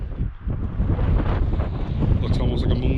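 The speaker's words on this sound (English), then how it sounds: "Sorry for the wind noise, but it is windy." Heavy wind buffets the microphone in a constant low rumble, with a faint higher tone rising briefly near the end, in an open, moonscape-like landscape.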